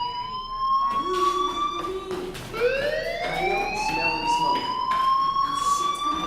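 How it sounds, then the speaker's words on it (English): A school fire alarm in the video game Life is Strange wails with rising and falling siren tones, loud and continuous, with an electronic buzzing undertone and voices faintly present. "Hey, do you hear that fire alarm? That means you should be outside."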